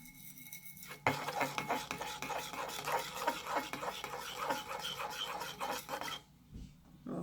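A yogurt and baking powder mask mixture is whisked in a bowl, a rapid, steady scraping and clinking of a utensil against the sides that starts abruptly and stops near the end.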